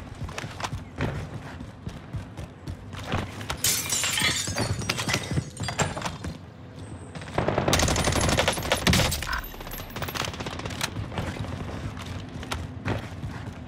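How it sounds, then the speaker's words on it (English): Rapid bursts of suppressed gunfire in a video game crackle through a busy, noisy mix near a buy station, with denser volleys in the middle and sharp clattering hits. "Suppressed gunfire at the buy station in front of me"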